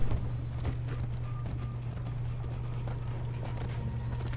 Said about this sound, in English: the horse is so slow when it does that